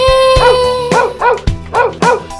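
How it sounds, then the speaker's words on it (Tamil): Dog barks several times in quick succession in a Tamil children's rhyme, short sharp yaps riding over a sustained musical accompaniment, loud and near. "அழகும் நாயும் வீட்டிலே,"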